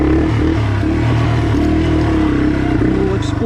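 A Yamaha TW200 dual sport motorcycle on a light rocky trail, its single-cylinder engine droning steadily up close with small shifts in revs, while a rider talks over it.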